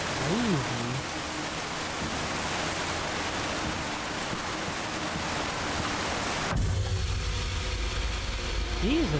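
Loud, steady downpour hisses throughout, with a deeper rumble joining near the end and a voice briefly heard over it.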